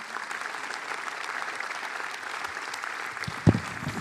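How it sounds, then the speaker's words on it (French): A conference audience claps steadily in a continuous patter of applause, moderately loud and unbroken, with one sharper knock near the end. "On vous applaudit."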